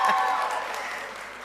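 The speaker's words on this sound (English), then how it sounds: "we need a little more applause than that" A crowd applauds at a public sector debate competition grand final, a brief burst of clapping and cheering that tapers off, with voices mixed in.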